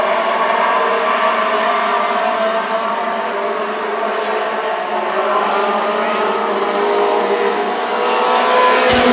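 WISSOTA Mod Four race cars roar together at Ogilvie Raceway during a green-flag heat race, a dense, loud, continuous engine drone from many cars with no voice over it.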